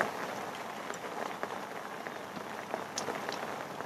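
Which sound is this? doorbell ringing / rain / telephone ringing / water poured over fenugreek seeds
rain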